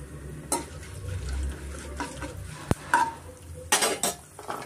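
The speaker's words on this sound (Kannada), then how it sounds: "ಮತ್ತು ಕಡಲೆಬೇಳೆ ಮೀಡಿಯಂ ಫ್ಲೇಮಲ್ಲಿ ನಾವು ಫ್ರೈ ಮಾಡ್ಕೊಳ್ಳೋಣ." Mustard seeds, cumin, curry leaves and chana dal fry in oil over a medium flame. A spoon scrapes and stirs against the pan close up, with a low sizzle underneath and several sharp clinks of metal.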